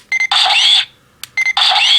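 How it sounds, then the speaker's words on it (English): A CSM Faiz Gear toy from Masked Rider Faiz sounds its electronic camera effect: a loud, bright beeping shutter burst followed by a sustained flash tone, repeated twice with a sharp click between, no voices. "you get a shutter and flash."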